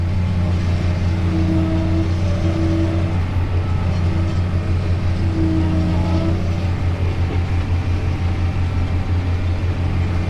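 A New Holland T7030 tractor drives through slushy water and ice, its diesel engine a steady, loud, close drone with a deep hum that holds throughout, heard from the cab with no talking.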